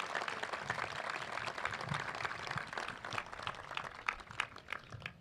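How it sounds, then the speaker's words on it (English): Audience applause at a commencement ceremony, a dense sustained patter of many hands clapping at moderate distance, steady throughout with a few sharper individual claps toward the end. "let's give another round of applause for our speakers"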